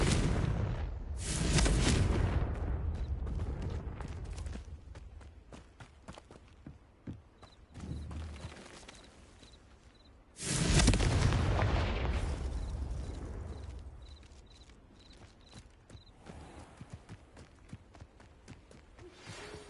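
Confringo fire spell in the PS5 game Hogwarts Legacy, two loud, booming blasts about eight seconds apart, each starting with a sharp burst and then a long rumbling decay, with faint game effects between them.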